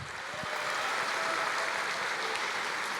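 Steady applause from a church congregation, a dense, even clatter of many hands that holds at a constant level for the whole stretch, with no voices over it.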